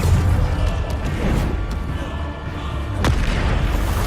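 In Hogwarts Legacy, a Bombarda blasting spell goes off as a heavy boom near the end, following several lighter impacts amid a steady, dense rumble of combat.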